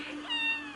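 A kitten gives a single clear, fairly close meow in an indoor home, rising then falling in pitch over a faint steady background hum, with no talking.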